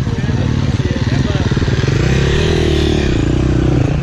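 A Husqvarna TC125 two-stroke motocross bike revs nearby, its engine buzz rising in pitch and holding high toward the end, with people talking over it.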